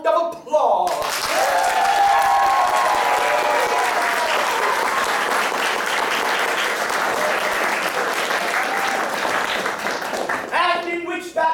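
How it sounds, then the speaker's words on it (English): Raucous audience applause at a live improvised Charles Dickens comedy show, dense, loud and sustained for about ten seconds with scattered cheers, starting abruptly after brief talk and fading into speech at the end. "honoring him with a completely unwarranted yet excessively raucous second round of applause"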